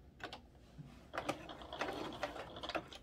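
A sewing machine runs a short backstitch while sewing a fabric travel cord organizer, a quick burst of rapid mechanical clicking and whirring, close and fairly quiet, with no talking.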